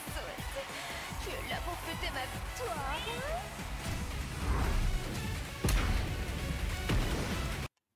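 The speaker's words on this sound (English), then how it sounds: "Cat once again." A cat meows in a Tekken 8 trailer for the fighter Lili, several bright mewing cries sounding in the first half over loud music, whooshes and crashing hits, with the full mix stopping suddenly at the close.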